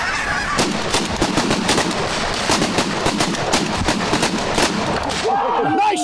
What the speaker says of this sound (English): Nice shooting, man!